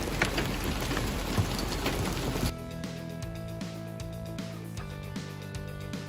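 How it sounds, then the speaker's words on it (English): Hail falls in a dense, hissing patter for about two and a half seconds before cutting to music. "Rainbow and hail create a magical scene."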